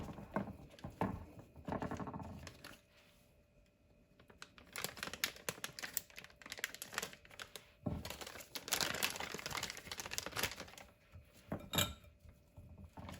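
A plastic piping bag is folded and filled with egg yolk for deviled eggs, giving close crinkling and rustling in bursts with a quiet pause, plus light clicks and taps.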